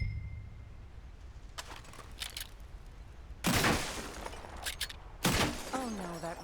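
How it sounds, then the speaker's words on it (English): Gunfire in the video game Red Dead Redemption 2: a few sharp shots at moderate distance, one faint burst then two louder cracks with ringing tails, separated by quiet gaps. "I'll shoot a few more this time."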